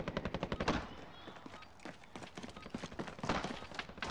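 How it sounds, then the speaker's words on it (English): Video game gunfire rings out as rapid automatic bursts of close, sharp shots in a steady rhythm, with a short lull before another burst. "Damn, I shot that guy out of the sky."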